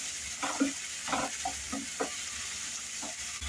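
Onion added to hot oil with cumin, cinnamon and cardamom over a high flame, a steady hiss of frying with a few soft stirring clatters close by.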